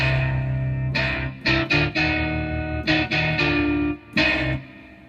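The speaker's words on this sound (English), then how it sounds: "Some of the crunch guitars." Crunch guitar patch on a Casio CGP-700 digital piano, mildly distorted chords struck in short bursts with brief gaps between them, played alone without speech.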